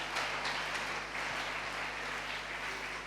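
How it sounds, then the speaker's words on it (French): A church congregation applauds for Jesus during a Sunday worship service, with steady, dense clapping that fills the room and carries on evenly for a few seconds. "Acclamons pour Jésus."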